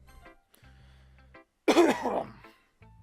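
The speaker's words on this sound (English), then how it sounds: "Clearing my throat." A single short throat clearing, close and fairly loud, set between quiet stretches with faint background tones.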